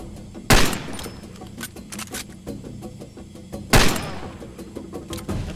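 Gunfire in the shooter game Far Cry 2: two loud, sharp gunshots about three seconds apart cut through a busy background of game noise and scattered smaller pops.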